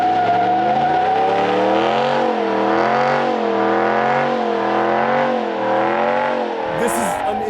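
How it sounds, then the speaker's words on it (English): 2026 Ram 1500 pickup with a Hemi V8 doing a burnout, the engine holding a loud, steady wavering roar with rising and falling revs throughout, close by, with a brief different noise at the very end. "They're like, yo, you guys want to go to the burnout section?"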